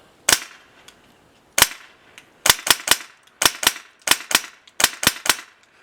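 Airsoft gun firing BBs, sharp loud cracking shots nearby: two single shots, then quick bursts of two to three rapid reports separated by short pauses.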